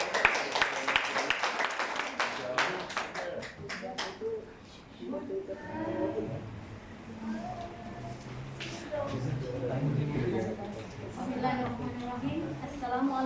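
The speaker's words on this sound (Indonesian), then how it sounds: "Boleh kita berikan tepuk tangan yang meriah?" An audience at a formal gathering applauds, a brisk run of claps in the first few seconds that gives way to talk and murmuring.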